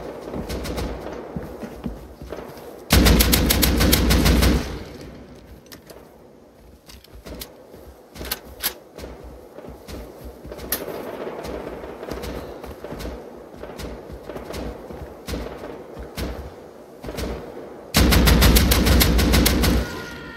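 AK rifle gunfire in the survival game Rust, with two loud sustained automatic bursts near the start and end and scattered softer single shots and distant firing in between.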